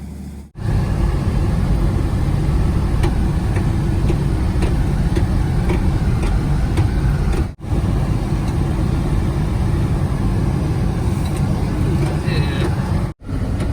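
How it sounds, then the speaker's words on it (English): A car driving on a snowy road near an off-grid cabin, heard from inside as a loud, steady engine and road rumble with brief dips, no speech. "It seems weird driving on this with snow"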